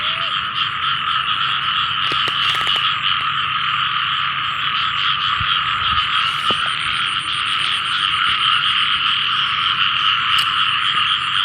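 A dense night chorus of frogs and toads croaks continuously from a flooded rice field after heavy rain, a loud unbroken trilling wall of calls with no voices over it.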